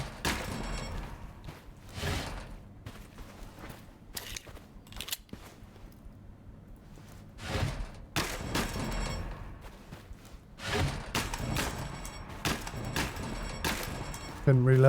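Gunfire in Gunsmith Simulator, a series of sharp shots in loose bursts scattered across the stretch, close and loud, with someone talking between the shots.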